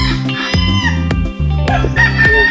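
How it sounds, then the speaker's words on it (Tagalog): Derby gamefowl roosters at a gamefarm crow loudly and close, several overlapping calls in quick succession with some clucking between them. "Ang daming manok."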